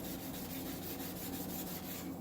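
Wet sanding of clear coat on a 1958 MGA body panel, a steady close rubbing rasp with faint rhythmic strokes, alone without talk.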